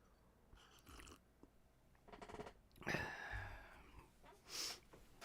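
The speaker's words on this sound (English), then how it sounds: "then I cough my brains out" A few scattered, rough coughing bursts, one sharper and louder near the middle, separated by quiet breathy pauses.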